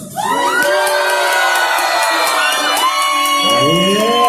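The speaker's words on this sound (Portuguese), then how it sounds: "Eu acho que eles aplaudiram mais pra mim, né?" A lecture audience cheers and whoops loudly, with high shouting voices rising and falling over steady crowd noise, close and sustained throughout.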